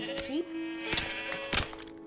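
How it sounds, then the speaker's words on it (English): A sheep in the Minecraft video game bleats in short wavering calls, with a couple of sharp thunks from hits or footsteps in between, close and clear over faint background tones. "Sheep?"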